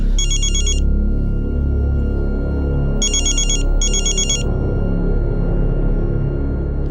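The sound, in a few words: telephone ringing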